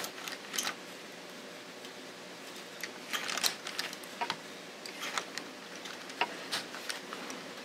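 An LK150 knitting machine carriage knitting rows gives soft clicking and clattering passes in irregular bursts, close but fairly quiet against a low background hiss.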